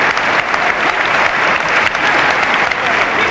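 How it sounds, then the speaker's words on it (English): Sustained, loud applause from a wrestling match crowd, a dense, steady wash of clapping that carries evenly throughout with no voices breaking through. "And just listen to that applause."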